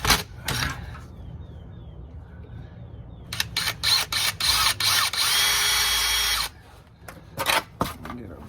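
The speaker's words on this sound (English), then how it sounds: "I'm gonna get me 2 little pilot holes drilled." A power drill boring two small pilot holes into the seal of a Chevrolet Traverse rear differential housing, short whirring bursts then a longer sustained drilling run, close and loud, with clicks and handling noises between.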